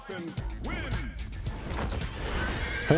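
A horse whinnies in the fighting game Street Fighter 6, a wavering neigh that rises and falls amid crashing impacts and game effects, loud and close with a busy mix around it.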